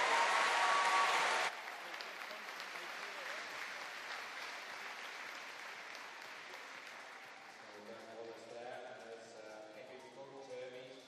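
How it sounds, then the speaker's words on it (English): Applause from the audience at a national open swimming championships in an indoor pool arena, loud for the first second and a half, then settling into a softer, sustained patter of clapping and crowd noise, with an announcer's voice faintly underneath near the end. "Everybody, let's have a massive round of applause for Dan Wallace."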